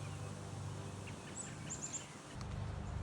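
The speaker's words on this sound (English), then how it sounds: "black-capped chickadee." A black-capped chickadee at a backyard feeder gives a few faint, thin, high chirps over soft outdoor ambience.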